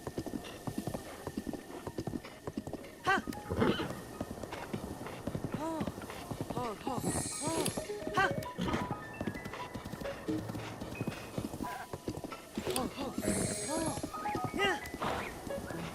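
Horse hooves clip-clop steadily in Zelda: Breath of the Wild, a continuous galloping patter beneath someone talking throughout, with occasional thuds and game effects.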